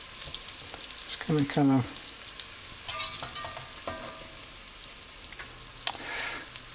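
Pieces of food sizzle in a hot pan as a fish spatula scrapes and lifts them out, with a few metallic clinks among the steady crackle while someone talks briefly over it.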